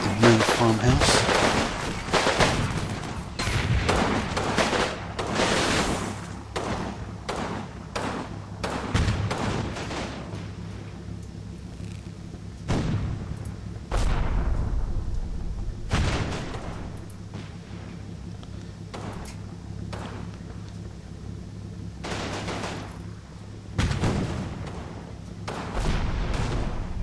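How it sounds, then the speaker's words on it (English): Dense gunfire in the Combat Mission war game: rapid bursts and heavy thuds aimed at a main farmhouse, loud and continuous throughout, with low rumbling impacts and a few sharper, louder blasts. "they're already starting to shoot at the main farmhouse"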